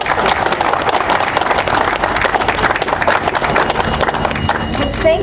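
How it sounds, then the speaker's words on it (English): An audience at a Rice Avenue rail safety press conference in Ventura County gives Administrator Feinberg a round of applause: loud, dense, sustained clapping filling the room, with a voice starting near the end. "Please give a warm Ventura County welcome and a round of applause"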